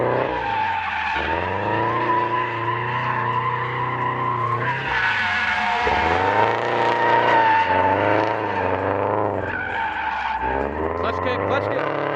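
A car drifts with clutch kicks, its engine revving hard in rising and falling sweeps while the tires skid and squeal loudly and continuously throughout.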